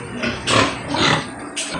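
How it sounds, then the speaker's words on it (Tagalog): Pigs on a small backyard farm grunt and oink in a few loud, close bursts, about three separate calls over steady background noise. "Ito yung mga baboy."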